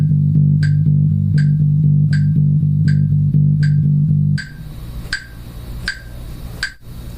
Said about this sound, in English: And if you make a whole bar of 8th note triplets, you're going to have 1 triplet that starts on every beat of the song.